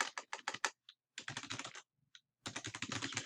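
A command is typed into a Linux terminal on a computer keyboard as fast bursts of close, crisp keystrokes broken by short pauses, with no talking.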